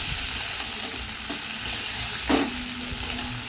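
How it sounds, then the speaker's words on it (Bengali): Ginger-cumin paste is stirred into potatoes frying in a pan with turmeric, giving a loud, continuous sizzle with scraping stir strokes and a brief clatter of the spoon near the end. "আদা জিরে বাটাটা আমি এর মধ্যে দিয়ে দেবো, দিয়ে নাড়বো"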